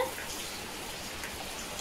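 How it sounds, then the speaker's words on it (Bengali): Steady drizzling rain falls outdoors, a faint, even hiss of light drops continuing without a break and with no voices. "আর এখন দেখো বাইরে কেমন বৃষ্টি হচ্ছে"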